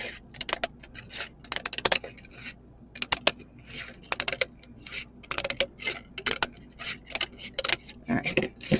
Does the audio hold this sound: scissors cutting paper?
yes